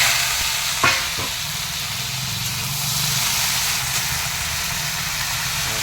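Okra, potato, tomato and green chili with cumin stir-frying in hot oil: a loud, constant close sizzle and hiss, with a brief scrape of stirring near the start.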